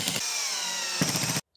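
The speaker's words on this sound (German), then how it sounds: "wir können das Ganze auch jeweils mit 2 von diesen Schrauben hier" A powered screwdriver drives screws into the brackets of an IKEA Malm chest of drawers, giving a close, continuous buzzing whine that changes pitch partway through and stops abruptly.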